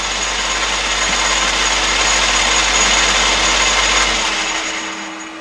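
A Sieg 6 lathe running steadily at about 780 RPM in a workshop, a loud, even machine whir with a constant hum that holds for several seconds before winding down near the end.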